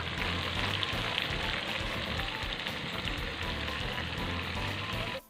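Som tam (papaya salad) deep-frying in hot oil, a steady dense sizzle and crackle running loud and continuous throughout, cutting off abruptly at the very end.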